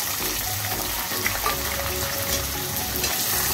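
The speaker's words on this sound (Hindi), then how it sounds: "प्याज को हम अच्छी तरह से ब्राउन होने देंगे, अच्छी तरह से फ्राई होने देंगे।" Chopped onions fry in hot oil for a mutton curry, giving a steady, close sizzle with faint stirring clatter and no voices throughout.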